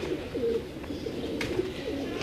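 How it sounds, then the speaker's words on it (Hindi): Jaldar pigeons cooing softly in a loft, low rounded coos repeating over a steady background hum, fairly faint, with no voices. "ये जालदार कबूतर"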